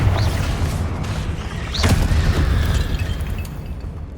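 A Confringo blasting spell exploding in Hogwarts Legacy, a booming burst with crackling debris and whooshing magical effects over a rumbling backdrop, loud and close with no voices.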